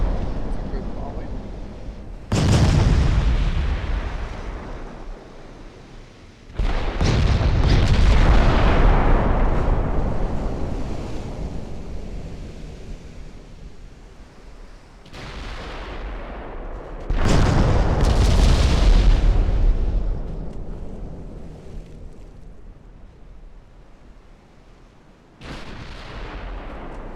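Naval guns fire broadside volleys in the Ultimate Admiral Dreadnoughts warship game: about five heavy, loud booms, each with a long rumbling decay, some coming close together.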